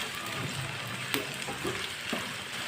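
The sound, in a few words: chopped okra frying and being mixed in pan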